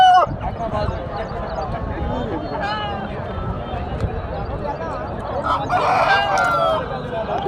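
A rooster crows at the Nallapadu Friday market, calling once at the start and again near the end over busy crowd noise and close talk.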